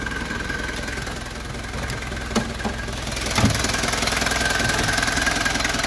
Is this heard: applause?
no